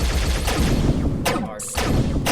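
Gunfire in a Unity FPS Microgame shooter, rapid loud shots in quick succession with a brief lull before firing resumes, close and dominant.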